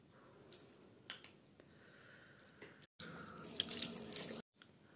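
Water splashes and drips faintly at a sink while face wash is rinsed off, with scattered light drops and a brief stretch of running water, quiet and close.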